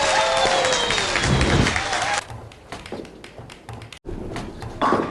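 A loud crash of a bowling ball striking pins in a VR bowling game, a dense clattering burst that cuts off into scattered taps and softer knocks, with a brief swell of crowd-like cheering at the end.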